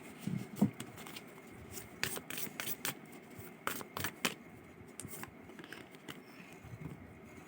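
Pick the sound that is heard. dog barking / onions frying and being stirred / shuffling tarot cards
shuffling tarot cards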